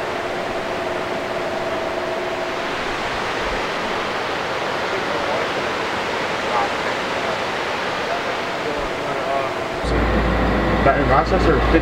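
Continuous rushing of a flowing walk-on water feature, a steady broadband wash at close range, growing louder and rougher toward the end.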